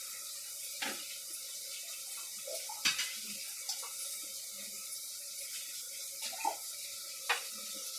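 Cabbage is washed under a running kitchen tap: a steady, faint hiss of flowing water broken by occasional soft splashes and drips as the leaves are handled, with no talking.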